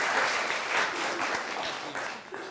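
A studio audience on a television comedy show applauds with steady, moderately loud clapping that continues unbroken throughout.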